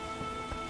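Rain in The Witcher video game pours in a steady, even hiss for a brief moment, with faint soft patters underneath.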